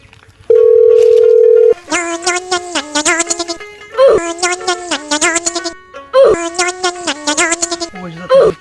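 A telephone line gives one long steady tone, then patterned ringing tones come in bursts with short gaps, clear and close, as a call is placed.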